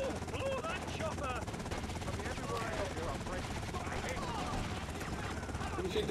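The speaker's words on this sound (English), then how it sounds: "There's another helicopter on your way." Helicopter rotor din in Grand Theft Auto: Vice City, a steady dense roar running throughout amid bursts of gunfire and game effects, with voices faintly in the mix.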